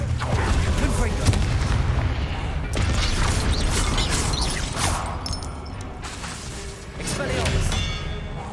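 A Confringo fire spell cast in the game Hogwarts Legacy, heard as dense booming impacts and mechanical clatter that roll on almost continuously, loud and busy, with a brief dip before a final burst.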